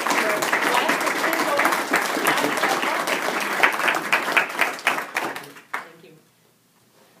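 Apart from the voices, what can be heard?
audience applause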